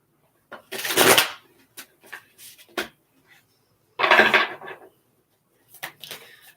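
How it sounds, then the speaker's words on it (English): Tarot and oracle cards are shuffled in two quick riffling bursts, close and crisp, separated by quieter taps and handling sounds during a live reading. "One more shuffle here."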